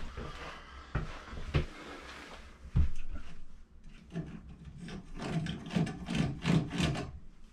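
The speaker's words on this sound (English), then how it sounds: "Now I'm gonna get my deburring tool," A deburring tool scraping the inside edge of a freshly cut pipe while replacing a washer outlet box, heard up close as a few sharp knocks followed by repeated rasping, rubbing strokes.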